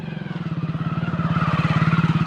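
A motorcycle engine throbs close by with a fast, even pulsing beat that grows a little louder, as if passing on a rural road, with no talk.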